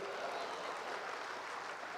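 An audience at a Hindi kavi sammelan poetry gathering in Haridwar applauds, a soft, steady wash of many hands clapping that stays faint and distant for the whole moment.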